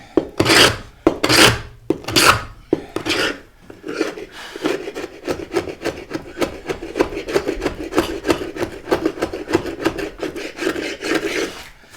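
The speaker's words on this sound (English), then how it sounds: "you can pull your way along, and then you can start and scrape away." A hand scraper rasps old paint off antique wooden furniture. Several slow, heavy scraping strokes are followed by a long run of quick, rhythmic scrapes, close and loud, with no talking.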